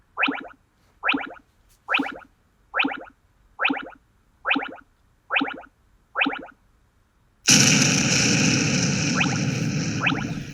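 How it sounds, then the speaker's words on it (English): A series of eight short, evenly spaced bursts is followed by a sudden loud, rumbling blast that slowly fades, like an explosion sound effect. "Right now, everyone's hearing an explosion playing along"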